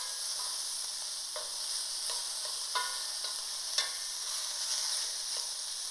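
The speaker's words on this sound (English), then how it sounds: "I'll add our red onion. This is just their sauté process" Red onion, mushrooms and other vegetables sauté in oil in a pan, giving a steady, soft sizzle broken by intermittent utensil scrapes and taps, with no talking.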